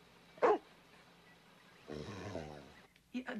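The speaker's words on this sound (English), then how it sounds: "What a goofy dog." A dog gives a single short, loud bark, followed by a stretch of soft vocal snuffling or whining and another brief sound at the end, with no talking over it.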